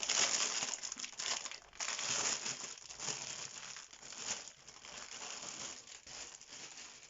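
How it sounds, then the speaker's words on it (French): Continuous crinkling and crackling of paper packaging, close and busy, with irregular rustles and crunches running throughout and no voices. "Les bruits de papier sont toujours super désagréables."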